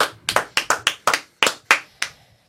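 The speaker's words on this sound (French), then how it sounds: "Il n'y a que nous qu'on applaudit" Hands clapping at close range, about nine sharp separate claps in an uneven rhythm, loud and alone, with a brief pause midway.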